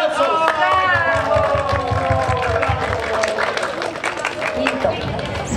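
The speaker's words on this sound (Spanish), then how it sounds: "¡Aplausos!" A theatre audience claps during a comedy stage play, steady dense applause mixed with crowd chatter and voices sounding over it throughout.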